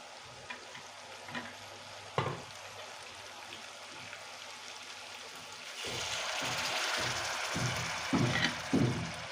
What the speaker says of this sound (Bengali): এখন আমি গরম জল দিয়ে দিচ্ছি